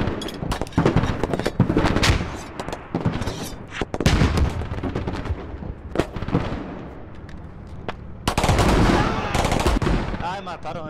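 Gunfire in the video game Squad during a fight around a building in Al Basrah, with repeated close shots and bursts, heavy booming impacts and a loud cluster of fire near the end, mixed with muffled game noise.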